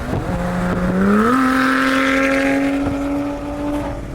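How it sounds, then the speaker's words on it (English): A Lotus sports car with a small supercharged engine revs up and holds a raised, steady engine note with a whining edge, loud and close without speech. "Obviously, the sound the car makes, which let's cut to right now."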